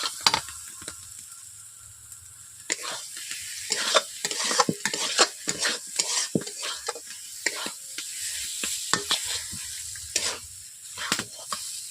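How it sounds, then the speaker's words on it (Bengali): An egg frying in a little oil is stirred in a pan, a low sizzle broken by frequent sharp scraping and clinking strokes of the spatula, close and uneven in rhythm. "ডিমটাকে দেওয়ার পর আমি 2 মিনিট এইভাবে নেড়ে নিয়েছি একটু অল্প করে"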